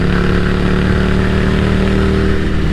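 A café racer motorcycle engine idles steadily and loudly up close, a continuous rumbling drone with no speech over it.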